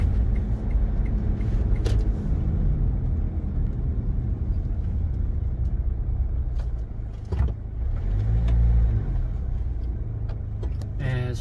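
A car on a test drive after an undercarriage play and noise check, giving a steady low engine and road rumble from inside the cabin, with occasional faint knocks and a passing shift in tone.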